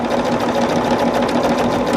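A sewing machine stitches a tester bag handle an eighth of an inch from the edge, running in a loud, close, steady whirring hum without a break.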